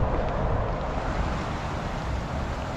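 Water from a small waterfall pours steadily over a flooded trail, a constant loud rushing wash close by with no pauses.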